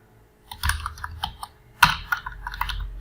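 Keys clatter on a computer keyboard as a search keyword about online earning is typed, in short irregular bursts with a sharp louder stroke midway, close and alone without speech.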